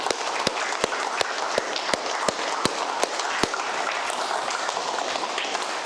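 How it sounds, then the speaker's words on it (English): MMA fight team applauding in a gym, a crowded burst of clapping with sharp individual claps punctuating the first half before settling into an even, fading patter. "give yourselves a round of applause"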